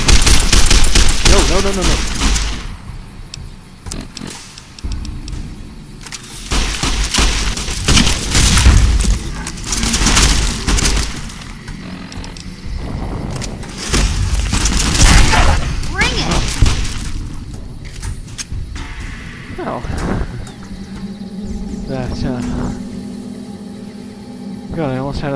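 Gunfire from a game of Fallout New Vegas as a young Deathclaw is shot down, loud bursts of rapid automatic shots and booms coming in clusters, with a brief spoken word in between.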